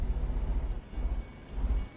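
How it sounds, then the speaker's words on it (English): A train rumbles past in a truck simulator game, a low, continuous heavy rumble with faint rhythmic pulsing, steady and close throughout. "What's that noise? I heard it sound like a train."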